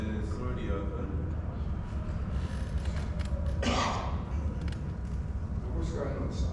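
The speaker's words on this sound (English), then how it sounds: "Open up the door." A door creaks open indoors, a single drawn-out groan under a steady background hum, with voices speaking around it.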